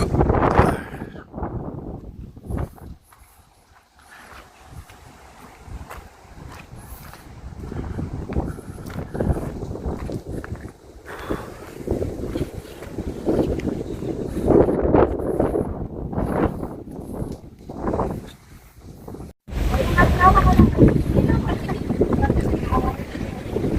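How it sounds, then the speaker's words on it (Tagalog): Strong coastal wind at Kapurpurawan in Ilocos Norte buffets the microphone in loud, gusty roars that rise and fall, with brief quieter lulls and some talk mixed in. "Masyado na malakas ang hangin."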